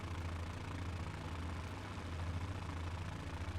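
A Fokker F.VII triplane's piston engines puttering along in MSFS 2020, a steady low, throbbing drone with a regular pulsing rhythm, continuous and fairly quiet.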